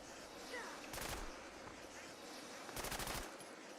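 Gunfire in the video game Fallout 76, heard as two brief rapid bursts of shots against a steady background of ambient game noise.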